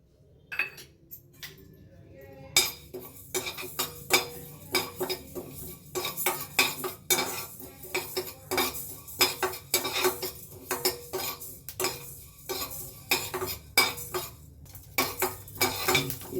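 Fenugreek seeds dry-roasting in a pan for homemade rasam powder, stirred continuously, with rapid metallic clinks and scrapes of the spoon against the pan. The stirring is close and rhythmic after a quieter start, and a voice is heard briefly.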